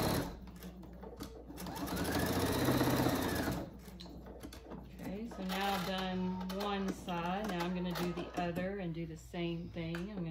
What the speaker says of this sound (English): we're going to sew all the way down to the other end and backstitch to secure that as well